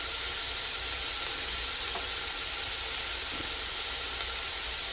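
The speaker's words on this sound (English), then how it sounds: "we're going to turn that off and sear now." Turkey sears in a pot with a constant, even sizzle and hiss that holds steady with no pauses or talk.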